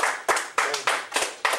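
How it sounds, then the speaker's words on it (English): A small audience claps in short irregular bursts for Brother Chuck, several scattered rounds of hand claps with gaps between them, fairly close and alone without talk. "I think everybody should give Brother Chuck a round of applause"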